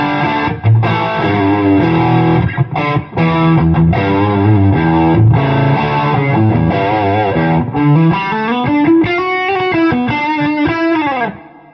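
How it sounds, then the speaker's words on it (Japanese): Electric guitar backing played through a Benson amp with distortion, loud and saturated, chugging chords and riffs that end in sustained bending notes before cutting off. "これが、ベンソンのディストーションのバッキング、音量をここは全部下げてます。"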